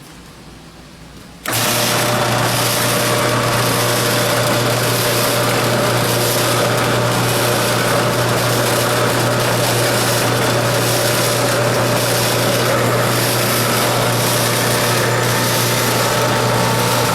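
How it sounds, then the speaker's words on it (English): A power drill bores steadily into a Razer flap pad, its motor whine starting abruptly after a short quiet lead-in and holding a continuous, even tone close by with no talking. "push this side up and drill this side"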